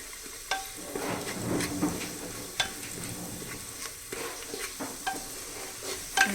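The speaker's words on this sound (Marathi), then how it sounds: "तर आता आपण याच्यामध्ये हळद, चटणी ते भाजून घ्यायचं आहे." Turmeric and chili powder frying with roasted garlic in a pan, a soft sizzle broken by repeated clinks and scrapes of a spoon stirring, fairly quiet and close, with no talking.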